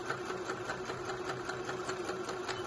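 A sewing machine runs a shoulder seam on a dress, its fast, even stitching chatter steady and close throughout with a constant motor hum.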